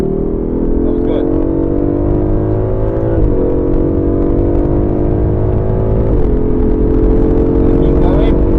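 A 2020 Aston Martin V8 Vantage accelerates hard around the Silverstone International Circuit: a loud, close engine note climbs steadily, with two quick upshifts breaking the rise before it pulls on again.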